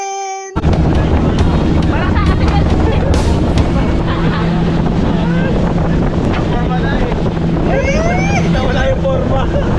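Strong wind blows on a boat, a loud constant roar with a low engine-like rumble beneath it, and voices are faintly audible through the noise.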